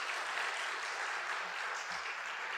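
A church congregation in Seoul applauds during a sermon, giving a steady, dense wash of many hands clapping at once. It is heard from a distance, softly and evenly, with no speech over it.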